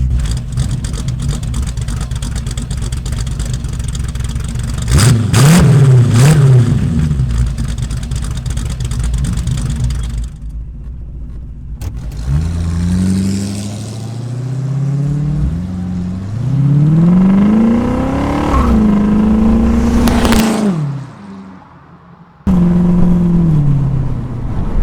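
A 1972 Datsun 580Z Spyder engine revs and accelerates on a drive, its pitch climbing in repeated sweeps, with brief drops to quieter cruising and a steady road roar underneath throughout.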